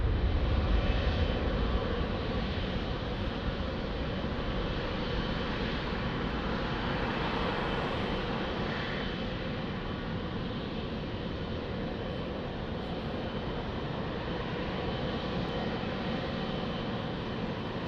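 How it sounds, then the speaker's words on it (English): An Etihad Boeing 777 airliner at Lisbon Airport gives off a steady, broad jet engine roar at moderate distance, swelling slightly and then holding constant for nearly twenty seconds, with no talk. "So this one is Etihad 777."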